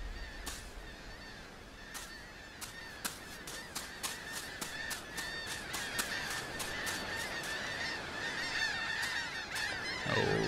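Geese-like birds honk repeatedly in the game Die Young, a dense run of loud calls with sharp cracking hits throughout.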